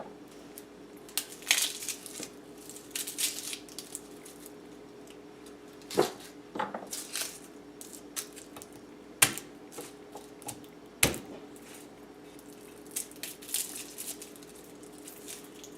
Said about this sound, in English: Now we'll cut up the garlic.